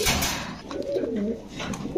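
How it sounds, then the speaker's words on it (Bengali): Close, low cooing from caged female Pankhi pigeons rolls on in repeated throaty phrases, with light rustling behind it. "কি কবুতর ভাই এগুলা? পাঙ্কি ভাই।"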